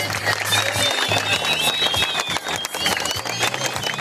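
Audience applause at a football tournament final ceremony, dense steady clapping from a crowd throughout, loud and close, with faint voices mixed in.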